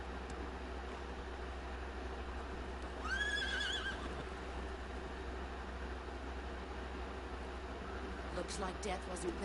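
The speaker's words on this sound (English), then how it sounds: "There's that horse I was looking for." A single horse neigh rings out early in the video game Metal Gear Solid 3, bright and wavering, over a steady low hum, followed later by faint clatter.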